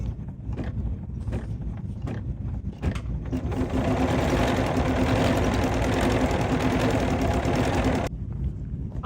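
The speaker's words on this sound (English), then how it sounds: "And now it's time to stitch." A Bernina 990 sewing machine stitching a quilting pattern: a fast, steady, close mechanical whir that runs for several seconds after a few short needle bursts, then stops abruptly.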